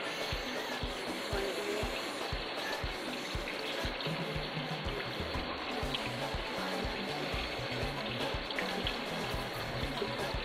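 Cold water runs steadily from a tap into a kitchen sink, a continuous splashing hiss with faint irregular clinks, fairly quiet and close.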